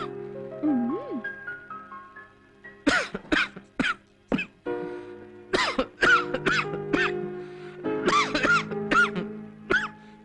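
A person coughs repeatedly in a Telugu comedy film scene: loud, close, hacking bursts in uneven clusters over a faint musical tone, with some vocal sounds between the fits.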